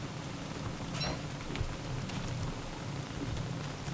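Steady rain hiss with scattered patter from a Frog Rain event in a video game, fairly loud and continuous throughout with no talk over it.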